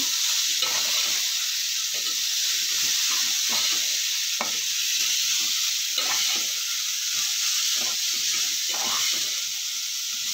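Green chillies and grated ginger sauté in a pan with a steady, even hiss of frying oil, punctuated by faint intermittent stirring scrapes, close and constant throughout.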